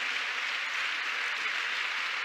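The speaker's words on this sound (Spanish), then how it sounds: "Dele ese aplauso a Dios" A church congregation applauding together, a steady broadband wash of clapping that stays even and sustained from start to finish, with no voices standing out above it.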